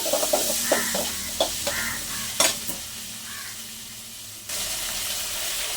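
Drumsticks being stirred and fried with turmeric in a pan: soft scraping stirs and clinks over a low sizzle, a few sharp spoon knocks early, then a steady faint hiss alone.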